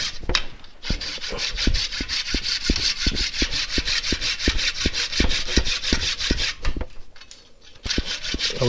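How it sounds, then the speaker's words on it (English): Small hand saw cutting through monkey puzzle wood: close, loud rhythmic rasping strokes in a steady back-and-forth pattern, about three per second, with a brief pause near the end before sawing resumes. "Right, let's get a little saw."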